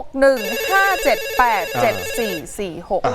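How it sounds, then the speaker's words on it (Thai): A telephone ringtone plays loudly and close, a melodic electronic tune looping for a few seconds with no talking over it. "ทีมงานรับโทรศัพท์หน่อยฮะ"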